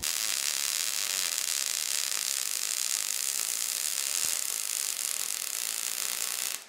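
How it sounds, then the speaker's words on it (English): A MIG welding arc, a steady loud crackling hiss that runs continuously and then cuts off at the end, its tone shifting slightly along the bead. "You can hear the sound of the weld change."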